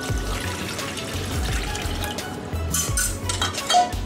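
Cold water splashes and trickles into a metal pot with clanking and sloshing, close and moderately loud.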